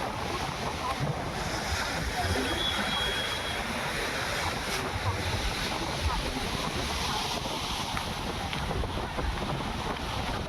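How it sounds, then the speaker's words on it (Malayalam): Sea waves wash against Shanghumukham beach on a crowded Sunday, a steady broad surf wash mixed with wind buffeting the microphone, moderately quiet and continuous throughout. "അപ്പം നമ്മൾ ശംഖുമുഖം കടലാണ് ഇപ്പോൾ കണ്ടുകൊണ്ടിരിക്കുന്നത്."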